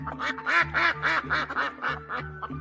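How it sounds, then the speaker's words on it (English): A duck quacks about seven times in a lively, evenly spaced run of nasal calls, close and clear, with a steady low tone underneath. ""Maybe," quacked the duck."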